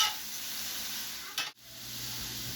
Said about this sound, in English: I'm just going to go ahead and mix them together with the mushrooms and just get it nice and mixed well